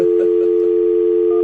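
A steady telephone dial tone sounds loud and unbroken on the line as a call is being placed, holding alone with no voices.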